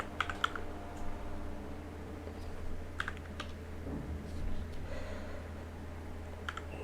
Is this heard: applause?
no